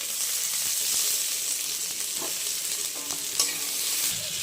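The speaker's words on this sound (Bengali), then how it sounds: "কড়াইতে তেল গরম হয়ে গেছে, এখন মা দারচিনি এলাচ দিচ্ছি" Cinnamon, cardamom, ginger, garlic and chili fry in hot oil in a wok with a steady, close sizzle and crackle, plus a few stirring scrapes near the end. Nobody speaks.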